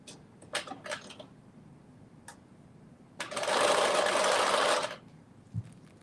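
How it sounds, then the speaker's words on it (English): A sewing machine runs through one short, steady burst of stitching on a Know Me 2043 top, framed by light clicks and handling noises. "I am sewing Nomi 2043"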